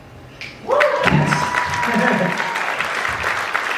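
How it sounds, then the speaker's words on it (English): Audience applause breaks out at a live magic show, a loud burst of clapping that rises sharply and holds steady for several seconds, with a rising whistle-like tone sweeping through near the start. "Give them all a round of applause."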